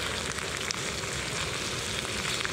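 Oil and water sizzle steadily in a pan of peperonata cooking over an outdoor wood-fired stove, a dense continuous frying crackle with no voices.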